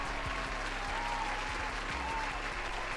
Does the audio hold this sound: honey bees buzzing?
no